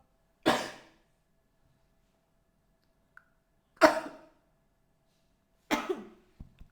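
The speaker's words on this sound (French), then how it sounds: "Je vais éternuer, excusez-moi." Three sharp, explosive sneezes burst out of near silence, a few seconds apart, each trailing off quickly.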